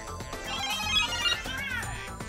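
Electronic jingle from a standard LEGO Super Mario interactive figure, a bright tonal melody with stepping notes played continuously for a couple of seconds, close and alone.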